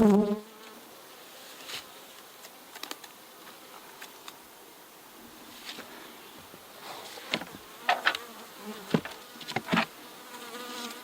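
Honey bees hum and buzz continuously as they are moved into a double-stacked five-frame nuc hive, close and moderately loud, with scattered clicks and knocks of frames and wooden boxes.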